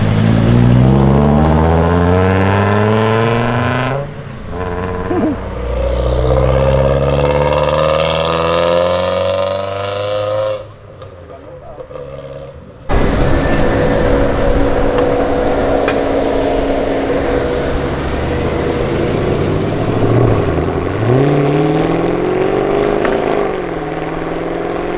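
A VW Brasília with a loud aftermarket exhaust revs hard nearby, engine sweeping up and down through several pulls with a short pause between.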